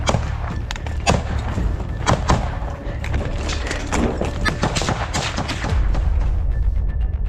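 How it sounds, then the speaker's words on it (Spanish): Rapid, irregular bursts of gunfire crackle and thud over a dense, rumbling background in combat between Ukrainian and Russian soldiers, with shots overlapping almost continuously throughout. "El sonido de los disparos se volvió incesante."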